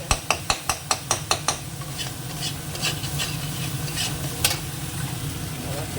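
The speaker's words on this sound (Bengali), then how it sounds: "আলু আর পটলটা দিয়ে একটু কষিয়ে সাইড দিয়ে তেল ছেড়ে দিয়েছে" Potatoes and pointed gourd sauté in oil in a pan, opening with a run of sharp rhythmic scrapes of a spatula against the pan, then a steady close sizzle with occasional stirring clinks.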